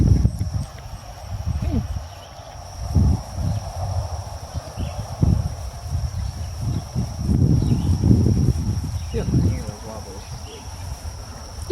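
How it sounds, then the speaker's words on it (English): Donkeys move about on a farm, with soft hoof thuds and shuffling scattered through a quiet outdoor scene, faint and intermittent. "donkeys"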